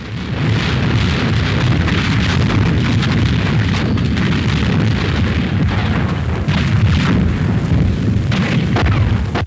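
Heavy night artillery bombardment in 1944 New Guinea, a continuous loud rumble of overlapping booms and blasts lasting throughout with no pauses and no talking.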